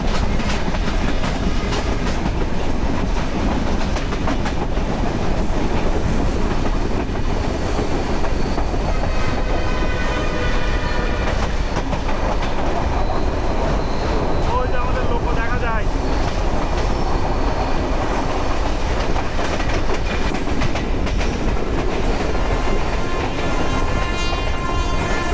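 The Padma Express runs at night on the Dhaka to Rajshahi line, a steady, loud rumble of rolling wheels and rail clatter that fills the whole stretch without a break, with a faint squeal now and then.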